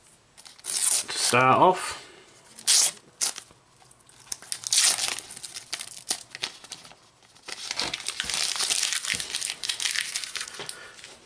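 Someone tears open a Topps UEFA Champions League 20/21 sticker packet close to the mic, with bursts of crinkling and ripping foil among handling rustles, while a person speaks briefly.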